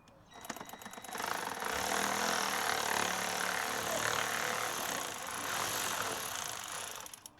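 A power drill runs continuously, whirring and rattling up close for several seconds as it backs out screws during an oil change on a Peugeot 308 GTi and a Caddy, then winds down at the end.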